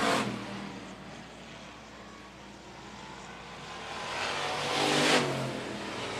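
Hobby stock race cars at Phillips County Raceway roar past on the front straightaway, a steady loud engine drone that swells toward the end as a car passes close.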